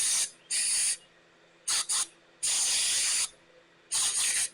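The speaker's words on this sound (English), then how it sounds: "then we'll hit her with some carb cleaner" Carb cleaner is sprayed onto the carburetor of a 1978 Sears 12/6 garden tractor in bursts of loud, close aerosol hissing, four or five sprays of differing length with short pauses between.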